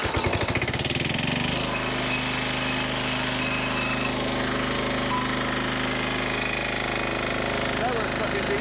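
An old diesel tractor engine, unstarted for a while, cranks with a rapid chugging rattle and then catches into a loud, steady running drone that holds through to the end.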